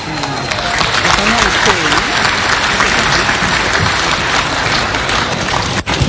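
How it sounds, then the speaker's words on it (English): Sustained audience applause fills a memorial service, loud and dense throughout with cheers and voices mixed into the clapping crowd. "One more round of applause for her, please."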